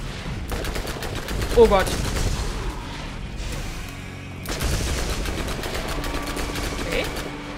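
Gunfire in the video game Borderlands: a dense, steady stream of rapid shots with a sharper burst near the start, a brief drop, then more firing, all under an excited voice exclaiming in German.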